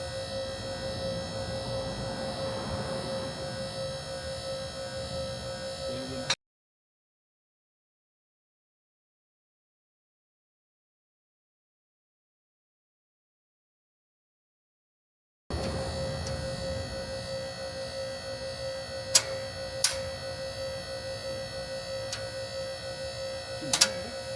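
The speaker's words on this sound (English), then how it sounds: "What you're hearing is locks." A VEVOR portable 9000 lb car lift's machine hum and whine run throughout, broken by a silent stretch, with a few sharp metallic clicks of its safety locks near the end.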